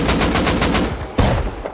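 Rapid automatic gunfire from an AK rifle in the survival game Rust during a base raid, a fast burst of evenly spaced shots followed by a louder single crack, close and dense.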